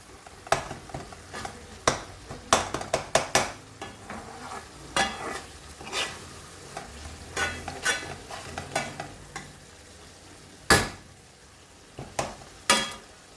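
Irregular clicks and taps of stirring in a cooking pan over a low bubbling sizzle as liquid boils up before chicken wings are added, close by, with no voices.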